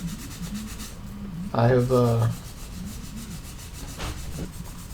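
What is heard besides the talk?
buffing SNES contact pads with 1000 grit sandpaper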